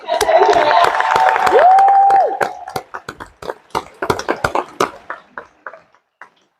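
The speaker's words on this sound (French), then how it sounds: "s'il vous plaît, applaudissez quand même" An audience applauds at a film screening event in Belgium, scattered claps breaking out after a stretch of crowd noise and a sustained tone, thinning to a few sharp, separate claps toward the end.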